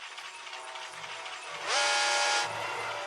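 A toy train buzzes and rattles with a steady mechanical whir, then lets out a loud electronic whistle or horn tone for under a second before the motor noise carries on, all close by.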